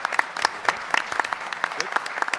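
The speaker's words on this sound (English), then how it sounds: "One more time for Miss Moore, let's hear it for her." Applause from an audience at a school board meeting, a moderate patter of individual claps heard fairly close, with voices faintly beneath.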